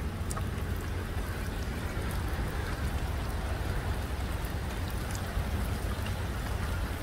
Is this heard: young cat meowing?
no